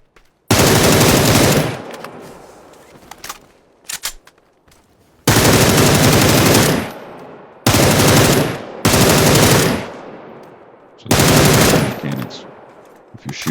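Automatic rifle fire in the PUBG shooter game, aimed at a window: five loud, sustained bursts separated by short pauses, each a rapid stream of shots with quieter gaps between them.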